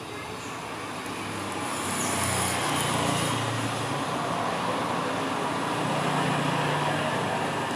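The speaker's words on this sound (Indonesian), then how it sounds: "Untuk panas blower masih sama ya, masih sama di 350 derajat Celcius dan anginnya 4 ya." A hot air rework blower set to 350 °C and airflow 4, used on a Redmi Note 8 phone board, roars in a steady, broadband rushing hiss that builds after a couple of seconds and holds constantly.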